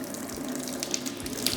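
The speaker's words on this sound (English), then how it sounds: "the faucet can give you access to water from all directions" Water runs steadily from a tilting kitchen faucet into a double sink, a quiet continuous splash and trickle close by with nothing else over it.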